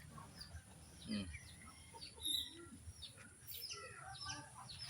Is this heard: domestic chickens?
yes